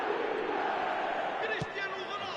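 A virtual stadium crowd in an eFootball match roars steadily at loud volume, a continuous swell of cheering with a brief sharper burst near the end.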